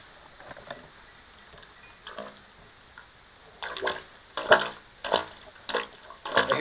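A metal washer on a string bounces in water at the bottom of a shallow well about 13 feet down, making faint, hollow splashy taps that grow into a series of louder, distinct plops toward the end.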